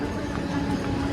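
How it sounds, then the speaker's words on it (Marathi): A commuter train arrives at a station platform in the morning rush, a loud steady low rumble and engine drone filling the short stretch, with no talk. "येते येते ट्रेन आली"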